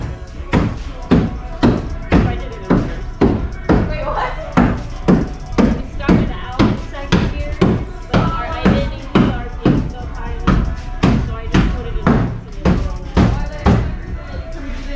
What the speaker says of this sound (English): You gotta hammer it. Got too much pressure.